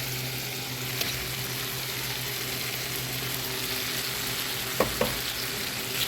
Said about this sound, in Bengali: ছোটো মাছটা দিয়ে আমি মশলার সাথে একটু হালকা করে একটু মশলার সাথে একটু ভেজে নেব